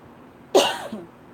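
A single sharp cough from a tickle in the throat bursts out close and loud, followed by a brief softer second expulsion.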